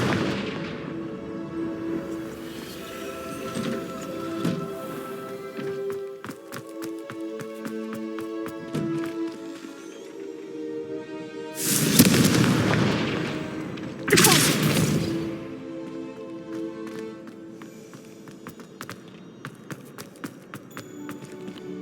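Blasts from the Confringo fire spell in the video game Hogwarts Legacy, two loud booming explosions about two seconds apart, set among lighter impacts and ambient game noise.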